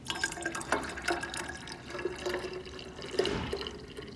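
Plant protein mix pours into a pH 2 stomach solution, giving a soft, close trickle of liquid with small drips and splashes, quiet and continuous, with no voices.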